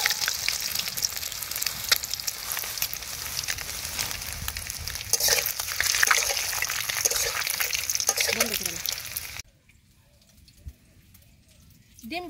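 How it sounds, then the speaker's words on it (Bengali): An egg fries in a pan over a village cooking fire, a steady close sizzle and crackle with stirring that drops out near the end, where a voice is heard briefly. "ডিম ভাজা হয়ে গেছে গা, নামিয়ে নেই"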